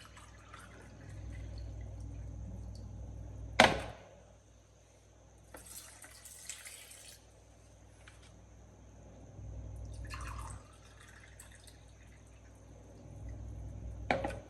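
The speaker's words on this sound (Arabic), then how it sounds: "نديرو 2 كيسان ماء." Two glasses of water poured into a mojito mix with sugar, lemon juice and oil. Soft splashing pours come in short bursts with quiet gaps between them, and there is a single sharp clink partway through.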